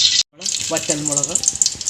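Dried red chillies and curry leaves fry in hot coconut oil in a kadai on a gas stove, giving a steady, close, hissing sizzle throughout, briefly cut off once, with a voice heard faintly underneath.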